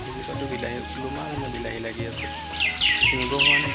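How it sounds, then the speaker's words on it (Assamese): Myna birds call with short chirps and squawks, growing busier toward the end, under a person speaking in a home garden with tomato plants. "শালিকা চৰাই এইফালে মাতি আছে।"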